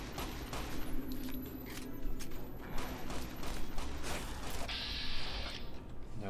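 Rapid, busy gunfire crackling in Fallout New Vegas, with rattling mechanical clicks and repeated shots packed closely over a steady game background.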